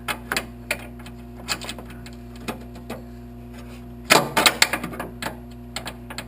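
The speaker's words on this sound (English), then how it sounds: "I should just go ahead and use these ratcheting wrenches" A ratcheting wrench works on the hood bolts of a 1975 Corvette, giving sparse, irregular close clicks over a steady low hum, with a denser burst of clicks near the end.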